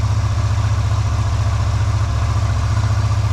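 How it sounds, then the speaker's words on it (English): A Yamaha Virago 250 motorcycle engine, newly fitted with a replacement carburetor, idles steadily with the choke on during a winter storm, producing a loud, close, even low throb with a fast regular pulse and no voices. "it's idling 10 times better than what it was."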